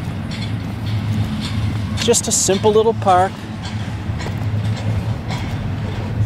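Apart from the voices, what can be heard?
freight train going by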